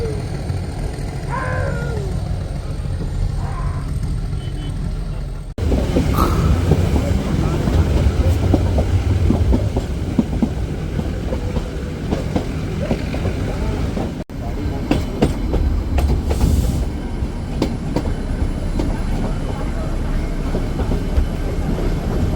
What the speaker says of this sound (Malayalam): വളരെ സ്ലോ സ്ലോവിലാണ് ഈ ട്രെയിൻ നീങ്ങുന്നത് കേട്ടോ